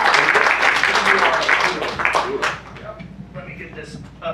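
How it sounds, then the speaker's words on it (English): An audience at an improv comedy show applauds with loud, dense clapping that fades after about two seconds, followed by voices talking. "Give him a round of applause with me."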